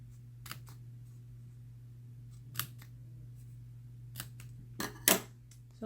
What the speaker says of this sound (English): take your scissors and cut like little triangles